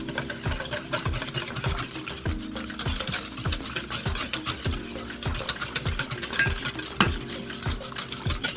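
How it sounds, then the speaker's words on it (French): Hot sugar syrup being stirred into condensed milk, a fast, rhythmic scraping and knocking of a utensil against a bowl repeating about twice per second, close and steady with no talk. "J'incorpore le sirop sur le lait concentré."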